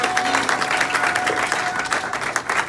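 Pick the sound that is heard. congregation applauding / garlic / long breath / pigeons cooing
congregation applauding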